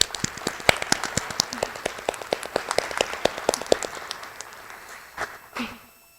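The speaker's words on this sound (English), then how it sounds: "we would love for you to stand up so we can give you a nice round of applause." Scattered applause from an audience at a city address, individual claps clearly separated and fairly close, thinning out and ending in a few last claps.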